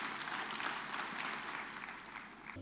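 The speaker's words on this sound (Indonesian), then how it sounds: "Kasih tepuk tangan bagi Tuhan Yesus." A church congregation claps steadily during a service, a moderate, continuous wash of applause at medium distance with no voices over it.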